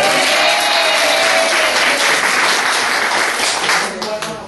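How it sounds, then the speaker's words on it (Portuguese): An audience at a poetry recital evening claps steadily and loudly throughout, a dense wash of applause that tapers slightly at the end. "Aplausos."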